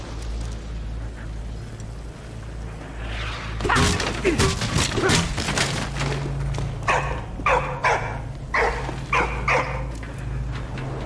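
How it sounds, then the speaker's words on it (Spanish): A dog in Valiant Hearts barks in a rapid series of loud, close yelps and barks over a steady low hum, with a crash-like burst near the start of the barking. "El perro está ladrando algo arriba."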